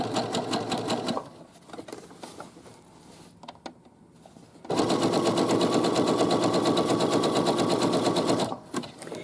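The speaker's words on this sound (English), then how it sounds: "I am going to back stitch here just because I didn't start right at the very edge" A sewing machine zigzag-stitches a side seam with a pocket, a rapid mechanical chatter that runs briefly, pauses for quiet handling and a few taps, then resumes in a long, loud, steady burst before stopping.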